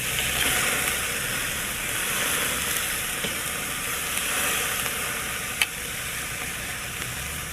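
A thick beef chuck roast sears over lump charcoal after being flipped, giving a steady close sizzle and hiss with a faint click partway through and no talk.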